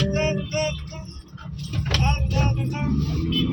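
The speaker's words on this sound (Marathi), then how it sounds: "गाडी आली." A car arrives on a road with a steady low engine rumble, heard close and fairly loud under people talking nearby.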